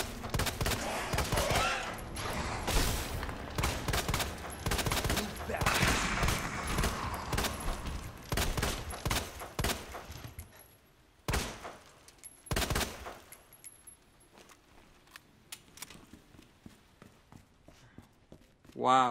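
Rapid bursts of gunfire from the Resident Evil 2 remake crackle close and loud for about ten seconds, then break into a few scattered shots, while a player talks over much of it.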